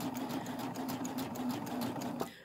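A Baby Lock 8-thread serger runs steadily, hemming knit fabric with a continuous fast rhythmic whir that stops abruptly at the end; close and alone, with no talking.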